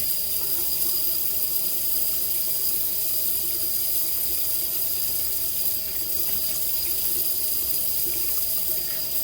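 Tap water runs steadily into a sink while shaving soap is rinsed off, an even close hiss with a faint tonal whine underneath and no talk.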